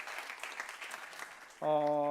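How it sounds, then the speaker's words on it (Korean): A high school church congregation claps in a soft, even round of applause that breaks off abruptly as a sustained electronic tone cuts in near the end. "박수 한번 해주시면 감사하겠습니다"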